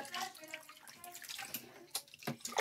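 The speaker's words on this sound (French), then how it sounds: "Attention, je mouille les cheveux." Water poured over a baby's hair in a bath, a close splashing trickle with brief spattering bursts and drips.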